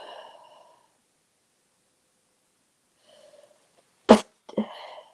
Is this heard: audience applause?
no